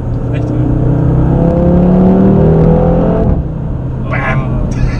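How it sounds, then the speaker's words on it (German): An Audi TTRS with a 2.5 L five-cylinder engine accelerating, a loud rising drone from inside the car that climbs for about three seconds and then drops at a shift. "So ein Klang kann halt nur ein 5-Zylinder haben."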